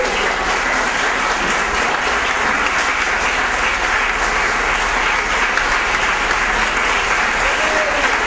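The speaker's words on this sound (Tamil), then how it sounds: "இந்த ஆண்டு முழுவதும் கர்த்தர் நம்மை நடத்தினபடியால் எல்லாம் சத்தமா கைத்தட்டுங்க பார்க்கலாம்." A church congregation at a Tamil Christian thanksgiving worship service claps loudly and continuously, a thick, even roar of hands with no pauses.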